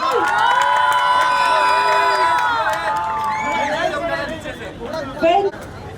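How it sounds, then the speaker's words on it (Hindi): A studio crowd on a Zee TV sweets show, gathered around a giant jalebi being fried, cheers and whoops loudly with overlapping shouts and chatter, then thins to scattered calls with a final brief burst. "एक बार जोरदार तालियां हो जाए यार।"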